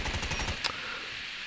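Rapid automatic fire from an AK-47 Kuromaku in a video game, a quick run of loud repeated shots at the start, then one sharp crack before the burst trails off into quiet.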